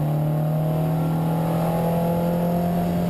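A car accelerates through a descent on the Nürburgring toward Breitscheid, its engine a steady, loud drone held close throughout with no speech.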